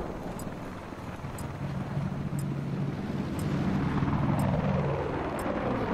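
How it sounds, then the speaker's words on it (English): A helicopter in the video game Battlefield 4 roars with a steady rotor thump and engine whine, growing louder as it nears, with no talk over it. "chopper. That's the one I'm trying to take down."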